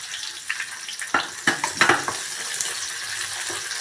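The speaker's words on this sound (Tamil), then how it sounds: "வெங்காயம் நல்லா வெந்து சாஃப்ட் ஆகட்டும் அது வரைக்கும் வதக்கி விட்டுக்கோங்க" Onions and cut tomatoes with tamarind being sautéed for brinjal chutney: a soft frying sizzle with a few sharp scrapes and clinks of a spatula against the pan, close by, no speech.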